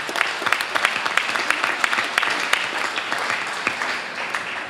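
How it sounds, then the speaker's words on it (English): A crowd gathered for the dedication of a new fire station gives a round of applause, continuous dense clapping from many hands at steady, fairly close volume with no talk over it. "How about a round of applause for them?"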